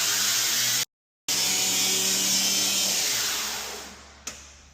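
A kitchen extractor hood above a stove in a move-in-ready Laredo town home hums and whooshes steadily at close range, with one brief cut-out and a gradual fade toward the end.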